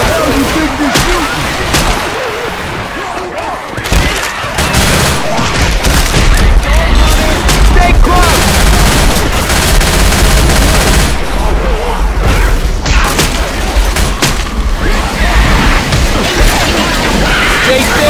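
Dense, relentless gunfire in the Left 4 Dead 2 Hard Rain campaign, loud booming shots and rapid bursts piling on top of each other without a break, with a character's voice shouting over the din.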